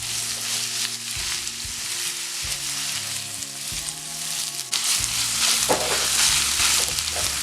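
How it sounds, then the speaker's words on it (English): Julienned carrots sautéing in a pan over medium heat until golden and caramelized, a loud continuous sizzle broken by stirring scrapes and clinks, with no talking. "Keep stirring and sautéing over medium heat until golden and tender"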